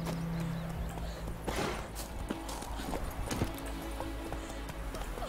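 A horse galloping in The Witcher 3 video game, with steady clip-clop hoofbeats over a dense, continuous game soundscape, at moderate level without speech.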